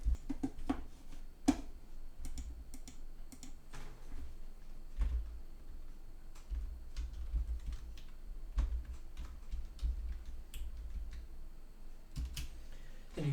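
Quiet keystrokes on a computer keyboard tap out a web address, a steady run of soft, irregular clicks close by with a few slightly louder presses and no talking.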